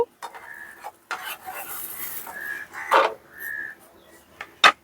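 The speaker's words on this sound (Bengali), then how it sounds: "ওটা এক সাইডে একটু ভাজা হয়ে গেছে আমি উল্টিয়ে দিচ্ছি" A paneer aloo paratha frying in a pan after being flipped, with soft sizzling broken by scraping spatula strokes and a few sharp clinks of metal on the pan, heard close with no talk.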